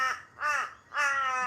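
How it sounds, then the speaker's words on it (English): Crows cawing outdoors near a beach, three harsh calls spaced evenly and fairly close, with no other sounds. "Now we got crows crowing."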